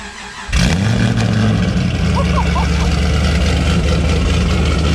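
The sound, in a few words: cold start of an 800HP car engine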